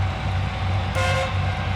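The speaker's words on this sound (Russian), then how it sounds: "прикольный клаксон" A truck horn in the SnowRunner video game gives one short, bright toot over a steady low engine drone, the blast lasting well under a second.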